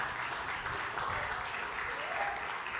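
Steady, dense applause from an audience fills the whole stretch, loud and even without pause, with no voices standing out over the clapping.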